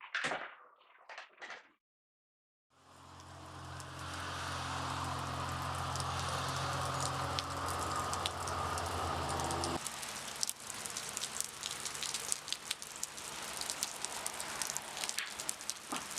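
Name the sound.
rain falling outside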